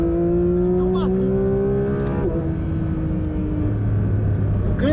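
A Porsche 911 GT3 RS of the 992 generation driven hard, its loud engine note rising steadily with a couple of gear changes, heard from inside the cabin while people talk over it.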